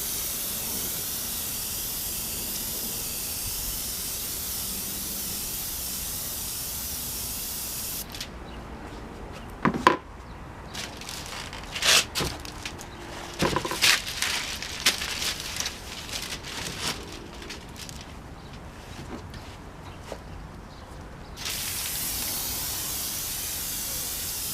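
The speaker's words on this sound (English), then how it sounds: "put in the clear, put a coat of clear on" Iwata airbrush laying clear coat during a repair, a loud continuous airy hiss at the start, then broken, sputtering spray bursts with clicks and rustles, and the steady hiss returning near the end.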